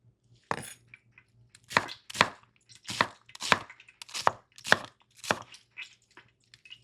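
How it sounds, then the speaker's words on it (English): A knife chops onions on a cutting board in a series of about nine crisp, evenly spaced strokes, close and clear with no talk over them. "You wanna make everything kind of a similar size when you're cutting up your vegetables that go in with this."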